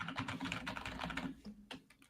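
Clicky computer keyboard typed in quick, steady bursts of sharp keystrokes, close and fairly loud throughout with no voices over it.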